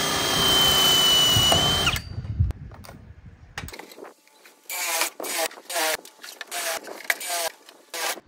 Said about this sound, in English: And then I just go along and drill the holes.